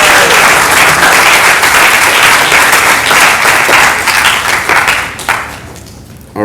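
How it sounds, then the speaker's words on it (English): Loud, dense applause from an audience at an interfaith dialogue event, sustained for several seconds before thinning out toward the end. "Please give a round of applause to Brother Shakir."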